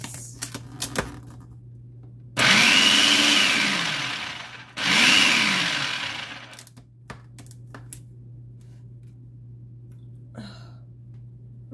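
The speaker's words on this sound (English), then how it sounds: "I'm gonna puree this." Blender pureeing strawberries with sugar for a bundt cake, two loud whirring bursts of a few seconds each with a sagging motor pitch, surrounded by clicks and a steady low hum.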